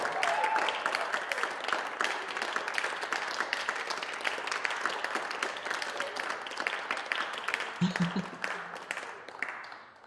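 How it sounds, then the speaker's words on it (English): An audience at a music therapy songwriting competition claps for the winner, a dense, steady round of applause at moderate distance lasting several seconds before tapering off, with a brief voice sounding near the end. "give a big round of applause"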